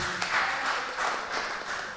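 An audience applauds at a community youth forum in St Catherine, a steady wash of clapping from many hands, moderately loud and close, lasting a couple of seconds.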